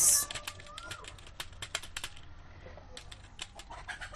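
Keys clack on a computer keyboard in short irregular bursts, close by and moderately loud, with a brief sharper sound at the very start.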